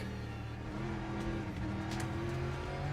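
Le Mans Ultimate hypercar racing engines drone steadily at a high, constant pitch, several cars close together with whining, layered engine tones and no pauses.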